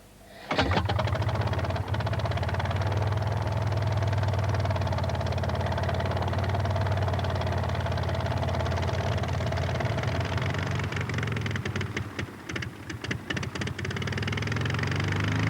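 A light aircraft piston engine catches abruptly after a short crank and settles into a loud, steady idle that stays even for many seconds, with a few stuttering rough patches near the end.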